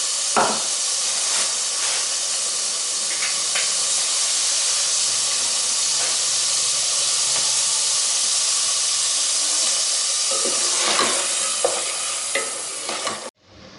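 Masala for shaljam gosht (turnip and meat curry) frying and being stirred in a pan: a loud, steady sizzling hiss with scraping stir strokes throughout, fading out at the end.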